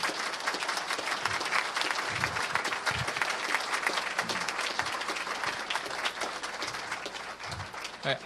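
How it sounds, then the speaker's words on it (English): An audience gives parents of participants a long round of applause at a youth event, dense continuous clapping with a few voices mixed in, heard close and steady throughout. "Can we give them all a round of applause?"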